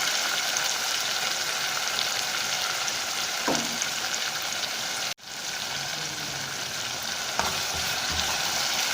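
Browning onions sizzle steadily in hot oil as garlic paste is added, a constant close crackling hiss with a single soft clunk partway through.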